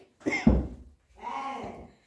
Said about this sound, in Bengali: আর কাশিও শুরু হয়েছে